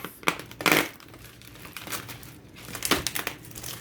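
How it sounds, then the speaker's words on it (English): Netting is cut away from a raw whole turkey, giving several close, crinkly snipping and crunching bursts with quieter rustling between them. "He comes with a netting around him, and we're just going to cut that off."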